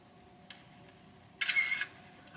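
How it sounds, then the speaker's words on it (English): Shutter release on a CHUZHAO vintage-style digital camera: a couple of faint clicks, then a short bright electronic shutter burst lasting under half a second, close up with no talk. "Shutter release."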